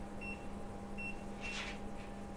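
A kitchen timer being set gives several short, thin electronic beeps spaced about a second apart. It is fairly faint over a steady low hum, with no talking.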